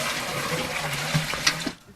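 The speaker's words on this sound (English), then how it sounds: "fills her water can to the top" Water pours and splashes into a water can being filled at a village well in a frontline village with no running water, a steady close gush that briefly sloshes near the end, then cuts off into quiet.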